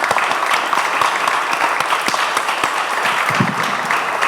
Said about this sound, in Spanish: cerramos con un aplauso para los expositores